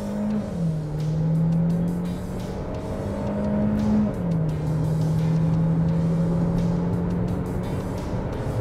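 A Hyundai Creta or Renault Duster launches from 2000 rpm under full throttle, its engine droning steadily and loudly from the cabin, dropping pitch at each gear change before climbing again, with faint ticking and road noise throughout.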